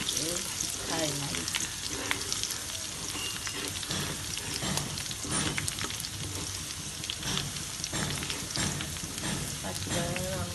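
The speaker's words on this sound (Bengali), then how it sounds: "শাকটা রান্না করে নিই।" Leafy greens (shak) sizzling and being stirred in a frying pan, a dense continuous crackle with scraping stir strokes throughout, close and steady.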